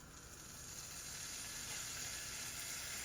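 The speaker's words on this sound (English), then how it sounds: "I'm going to add a little bit of oil, and I'm going to cook some prosciutto." Prosciutto crisping in oil in a pan gives off a continuous close, bright sizzle that holds steady and grows slightly louder, with no talking.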